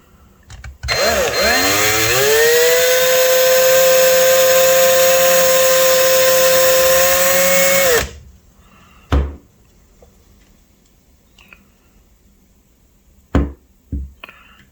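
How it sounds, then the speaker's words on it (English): A power drill spins up and grinds through metal while making a fishing lure, with a loud, sustained high whine for several seconds, then stops; a few sharp clunks follow. "we'll run our drill bit through and go to the next step"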